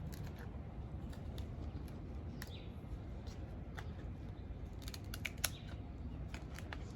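Scissors snip through a snake plant leaf in a series of faint, sharp cuts spread irregularly over a low, steady background hum.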